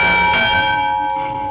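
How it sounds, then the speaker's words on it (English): One church bell struck once rings out clearly and close, its metallic tone sustaining and slowly decaying. "I want to catch Okay. the bell on this"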